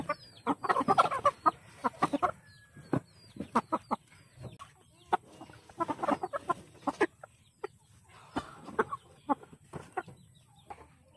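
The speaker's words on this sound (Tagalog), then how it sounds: "Number 4 naman ay ang native chicken." Native chickens cluck in short, repeated bursts separated by brief pauses, nearby and moderately loud, with occasional higher calls mixed in and no voices.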